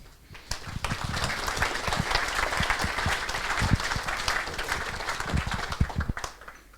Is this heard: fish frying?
no